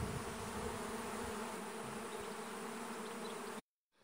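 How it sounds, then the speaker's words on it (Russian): A swarm of honeybees buzzing steadily near an apiary, a dense continuous hum at close range that cuts off abruptly near the end. "Сколько там пчелы село у нас"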